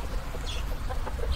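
Nervous clucking comes from a rooster among hens in a rural village yard, a few low, faint calls heard from some distance against quiet outdoor ambience.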